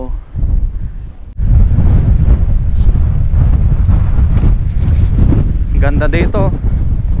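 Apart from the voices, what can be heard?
strong wind at the coast while fishing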